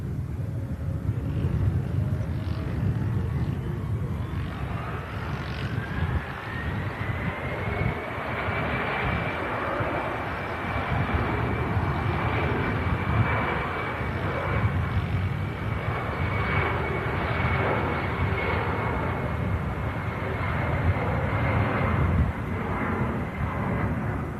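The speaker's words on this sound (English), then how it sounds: "What a stunning bizjet that is." A business jet takes off nearby, its engine roar rising into a steady high whine that holds loud and continuous over broadband rumble as it climbs away.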